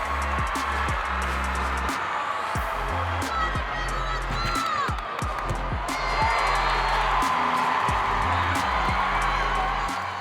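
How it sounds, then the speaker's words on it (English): Home crowd at Jenison cheering on the Spartans at a gymnastics meet, a loud, sustained roar of voices and whoops that fills the arena without a break, with a voice talking over it. "The home crowd at Jenison was deafening as they cheered on the one-seed Spartans"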